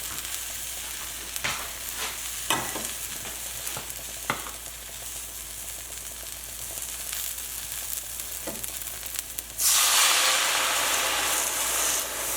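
Creamy sauce with evaporated milk bubbling in a pan on the stove, a steady close sizzle with scattered scraping stirs, rising to a louder, brighter hiss near the end.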